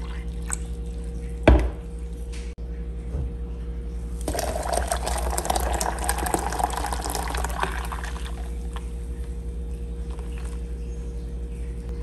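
Water goes into a blender with cucumber and sugar for cucumber water. A brief drip and clatter come first, then a few seconds of steady, close pouring splash that fades to quieter trickling.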